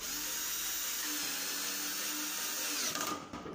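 Power drill fitted with a 3mm bit driving screws into a kitchen sink cabinet of gypsum board, a loud continuous high whine that shifts pitch slightly as the screw bites, then winds down abruptly at the end.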